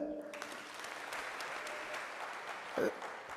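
Audience applause at a University of Nairobi student recognition ceremony, a steady wash of clapping from a large crowd that carries on throughout, with a brief louder burst near the end.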